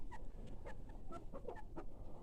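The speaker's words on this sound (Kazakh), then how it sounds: "Бар қызықтайтыным осы тауықтар." Hens cluck in short, scattered bursts inside a winter henhouse, several birds calling close by over a low steady background hum.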